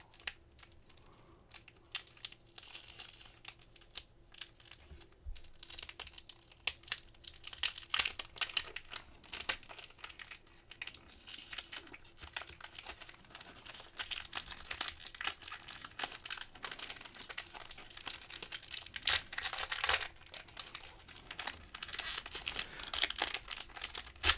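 A plastic sticker card pack being torn open, with dense, continuous crinkling and crackling of the plastic wrapper close up, loud and busy throughout with no talking.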